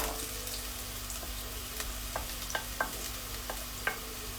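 Onions sautéing in a pan for a classic Indian chicken curry, a soft steady sizzle with a few sharp taps and scrapes of the spoon against the pan, heard alone without speech.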